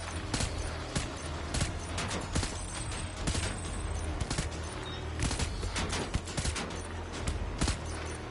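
Gunfire in a Death Stranding firefight on a PS5, sounding as scattered, fairly faint shots that pop repeatedly over a dense, noisy backdrop of game ambience for the whole stretch.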